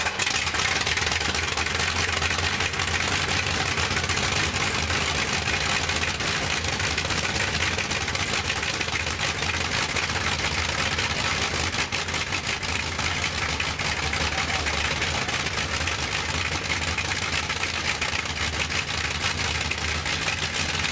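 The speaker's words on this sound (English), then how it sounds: "everybody enjoys the roar of a Rolls-Royce tomorrow" A Rolls-Royce engine runs steadily for the whole stretch, a continuous throaty rumble at a constant, fairly loud level with no pauses or talk over it.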